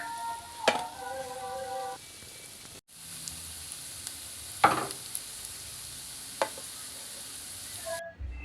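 Potatoes and onions with spices cooking in a pan give a steady broadband sizzle throughout, broken by a few sharp clicks and one brief cutout, with no talking.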